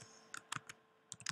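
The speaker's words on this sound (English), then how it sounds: "So I'm going to type in here" Keys tapped on a computer keyboard in quiet, soft isolated clicks arriving in two small clusters with a pause between them.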